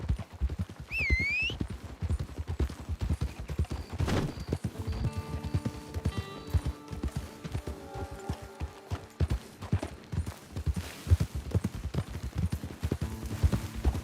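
Horse hooves in the Red Dead Redemption 2 video game, a steady clip-clop of a trotting horse close by, with a brief whinny early on and game music tones layered underneath.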